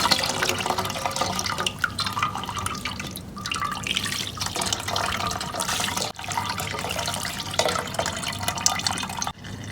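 Cold tap water runs and splashes while rinsing freshly made chhena (paneer) for Punjabi-style rasgulla, a continuous close, fluctuating gush of water with no talk.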